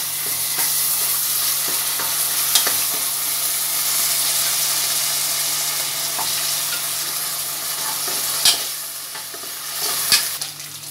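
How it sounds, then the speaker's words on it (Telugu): Golden-brown onions fry in a pan for an Indian-style pumpkin chicken dish as ginger paste is stirred in, giving a steady close sizzle with hissing steam and a few scraping stirs. "అల్లం పేస్ట్ యాడ్ చేసుకుంటున్నాం."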